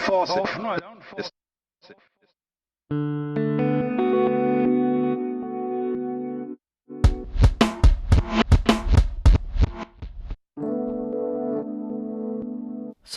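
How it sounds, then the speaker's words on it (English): Folktek Alter Y effects pedal on its palindrome echo setting, held tones and choppy rhythmic bursts bouncing back and forth in warbling repeats, loud and close with no talking. "You're just hearing an echo that kind of goes back and forth."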